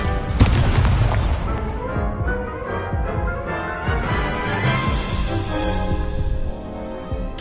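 An Incendio fire spell blasts in Hogwarts Legacy, a heavy booming burst at the start that rolls into a rumbling, crackling fiery roar before tapering off.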